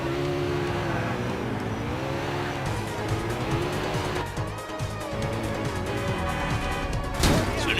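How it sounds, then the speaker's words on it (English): A Coquette sports car in GTA IV races along with a steady engine roar and tire squeal, then jolts against a curb with a sudden harsh bump near the end, loud and close. "As I proceed to hit a curb."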